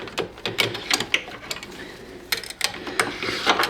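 A 10 millimeter wrench tightens bolts on a 1995 Honda FourTrax 200 ATV, giving quick ratcheting clicks in bursts with metallic knocks between, close up and without talking.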